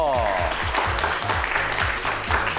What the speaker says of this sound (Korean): 주인공 두 분을 박수로 환영해 주시기 바랍니다